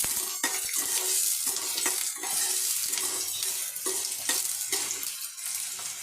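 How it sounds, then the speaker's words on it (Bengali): Chili and potato pieces fry in oil in a pan for a village-style thankuni leaf fry, a steady close sizzle broken by repeated scraping stirs of a spatula, with no talk. "এর মধ্যে আমি একটা আলুও দিয়েছি আলুটাও আমি একটু লাল করে নেব"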